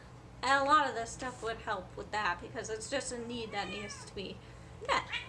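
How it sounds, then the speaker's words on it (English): A pet cat meows a few times in the background while playing with a dog indoors, soft and intermittent beneath a person talking steadily in the foreground. "that's just my cat meowing in the background because he's playing with my dog."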